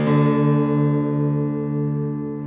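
Detuned guitar strings ring together with steady harmonic overtones, a loud sustained chord whose beating waver pulses through the decay, with no voices.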